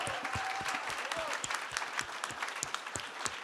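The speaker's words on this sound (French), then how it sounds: "Vous pouvez l'applaudir." Audience applause fills a French health podcast award ceremony, a dense run of claps with sharp individual hits rising and falling, with some speech under the clapping.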